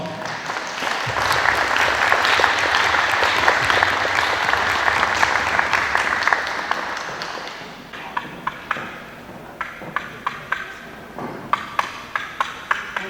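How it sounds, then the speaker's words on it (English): An audience at a ceremony gives a big round of applause welcoming a speaker. Dense crowd clapping builds and holds for several seconds, then thins out into scattered individual claps. "help me welcome Dr. Alyssa Vaughn with a big round of applause"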